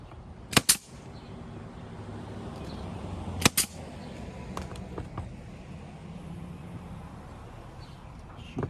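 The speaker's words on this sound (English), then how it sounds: "Shoot a couple of nails into it." A nail gun fires nails into a front pillar base during repair, producing two sharp double snaps a few seconds apart, each followed by faint clicks against a low, steady background.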